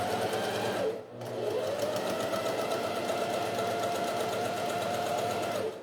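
A sewing machine stitches fabric for a jewelry box, a steady fast mechanical whir with a brief pause near the start, then continuous running at close range.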